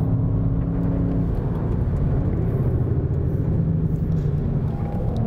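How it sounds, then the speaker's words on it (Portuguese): Volkswagen Jetta GLI turbo sedan at full throttle on the Interlagos circuit, a loud, dense, low engine drone heard from inside, holding steady for several seconds with no voices. "Bota o motorzão turbo para trabalhar."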